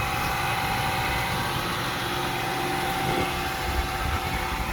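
A 2004 Ford Mustang engine idling outdoors in cold weather, a steady, even hum with a faint constant tone and no revving, close by and uninterrupted.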